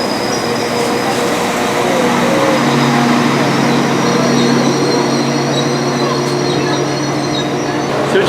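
A Transport for Wales Pacer train with a loud, steady rumbling engine drone and faint wheel hum, close and continuous, with muffled background voices.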